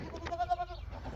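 Goats give a brief nasal bleat, a few quick wavering pulses at a moderate distance against quiet outdoor background.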